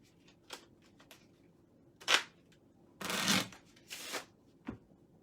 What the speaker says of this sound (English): we'll give the cards a quick shuffle